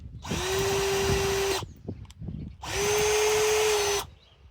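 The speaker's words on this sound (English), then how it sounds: "my drill's messing up here" A cordless power drill whirs in two steady bursts of about a second and a half each, separated by a short pause with handling noise, close and loud.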